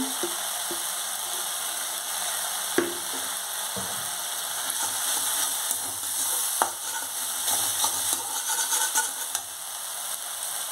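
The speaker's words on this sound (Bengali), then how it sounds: "এবার মশলাটা ভালো করে কষে নিতে হবে। এবার আমি দিচ্ছি হলুদ গুঁড়ো," Spices and turmeric powder frying in oil for a fish curry: a continuous bright sizzle runs the whole time, with an occasional clack or scrape of a stirring spoon against the pan.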